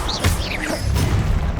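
A short burst of fire magic from the Incendio spell in the video game Hogwarts Legacy: a whooshing flare with a crackling smash near the start, then a low rumbling tail, loud and close.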